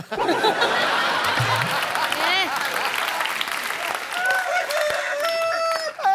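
On a comedy talk show stage, a man imitates a rooster crowing with drawn-out, wavering calls, set against audience applause and laughter, with people talking around the calls.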